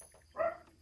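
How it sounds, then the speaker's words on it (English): A single brief bark from a female dog somewhere in the background, a short muffled yip that rises above a quiet room and fades fast. "I apologize for my dog if you hear her in the background"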